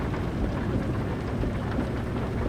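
Heavy in-game rain pours on a truck in Euro Truck Simulator 2, a dense, even wash of sound with no voices and no breaks.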